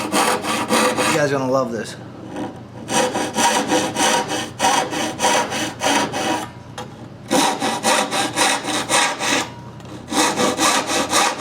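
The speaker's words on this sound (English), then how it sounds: "I kind of hack this stuff out with my blue blade" A blue-blade hand saw cuts through wood in a woodworking shop, making rhythmic back-and-forth rasping strokes in close, loud bursts with short pauses. Someone speaks briefly at the start.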